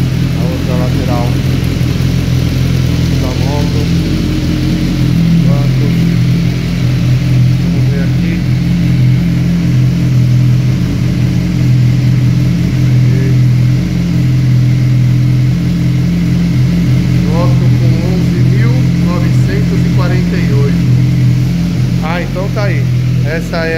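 A BMW S1000 XR motorcycle fitted with an Akrapovic exhaust runs steadily with a deep, loud, continuous engine drone and small throttle variations, close by with no talk over it.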